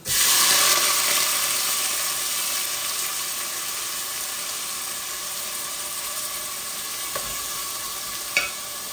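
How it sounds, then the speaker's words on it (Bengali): Onions hit hot oil already holding cinnamon, bay leaf and cumin for a chicken curry, giving a loud sizzle that settles into steady frying, with a couple of faint clinks near the end. "এখন আমি পেঁয়াজগুলা দিয়ে দিচ্ছি।"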